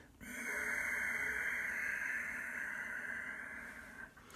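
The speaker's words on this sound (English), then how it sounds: "just keep on going with that silky, whistling, raspy sound from the back of the throat" Ujjayi yogic breathing: a single long, steady raspy exhale through a narrowed throat with a soft whistling hiss, close and continuous for about four seconds, then fading out.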